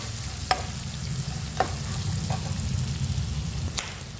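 Onions and curry leaves fry in a pan for lemon poha chitranna, making a steady close sizzle. A few sharp crackles and spatters pop out over it, and nobody speaks.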